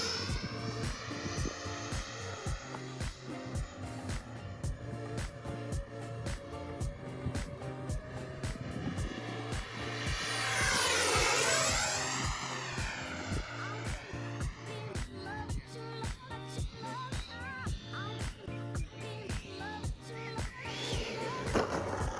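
A Freewing MiG-29 RC model jet flies past with a loud, high electric-ducted-fan whine, swelling and falling in pitch as it passes overhead and the sound peaks near mid-flight.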